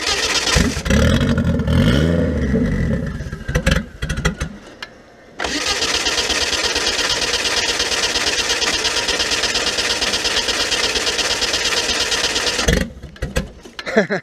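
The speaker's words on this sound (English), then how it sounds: "this is going to be the first start of this new engine" A freshly built forged 1.4 engine with a GTX2860R Gen2 turbo in an 800 kg Renault 5 Turbo fires up for the first time. It revs unevenly, then settles into a loud, steady idle that runs without a break before cutting off near the end.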